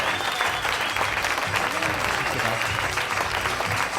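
Loud, dense applause from a stage hypnosis show audience, a steady wash of clapping that runs unbroken for the whole stretch, with crowd noise mixed in.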